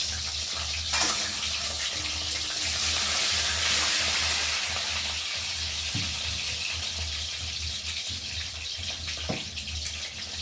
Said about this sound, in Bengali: এবার ডিমগুলোকে ভেজে নেব